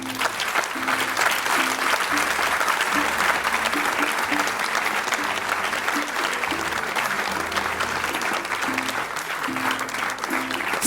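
Audience at the close of an improv comedy show on climate change applauding steadily, a dense, sustained wash of clapping from a full room lasting the whole stretch, with faint voices mixed in.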